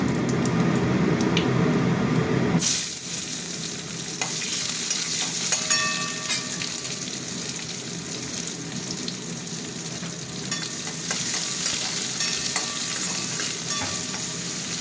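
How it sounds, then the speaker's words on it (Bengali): Onions fry in a hot pan with a continuous close sizzle, broken by scraping stirs of a spoon and a few clinks. "পেঁয়াজটা একটু ভাজা ভাজা হোক।"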